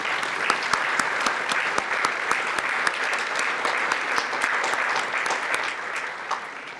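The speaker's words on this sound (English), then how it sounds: "Let's have one more round of applause for all the inductees." Sustained applause from an audience honoring inductees at a National Honor Society induction ceremony, dense steady clapping filling the room for several seconds before tapering slightly at the end.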